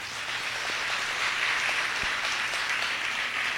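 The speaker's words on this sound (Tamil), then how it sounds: "கைதட்டுக்க பார்க்கலாம்." Crowd applause at a diocesan Lenten pilgrimage gathering: steady, dense clapping from many hands fills the whole stretch at an even level, with no voices heard over it.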